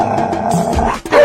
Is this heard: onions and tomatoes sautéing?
no